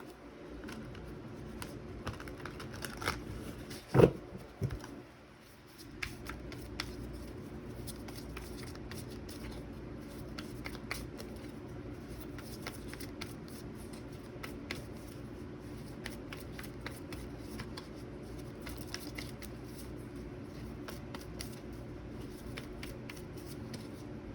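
Tarot cards are shuffled by hand up close in soft, continuous riffling and patter, with one louder knock early on, then quiet steady handling.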